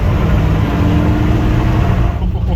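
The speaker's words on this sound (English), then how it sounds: "I was just spinning the tires there" A 1974 Dodge stepside truck revs loudly and close by in one steady, throaty roar while its tires spin on a rain-slick surface, easing off slightly at the end.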